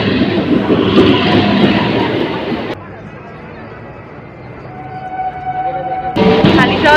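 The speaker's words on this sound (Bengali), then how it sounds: "ট্রেনটা ছেড়ে দিয়েছে" A Matribhumi local train pulls out of a station toward Sealdah with a loud broadband rumble that dips to a quieter, steady drone partway through and then swells again.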